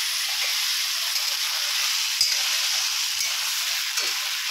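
Onions are stirred as they fry with spices in a pan for a chicken dish, giving a steady, close sizzle broken by a few soft scrapes.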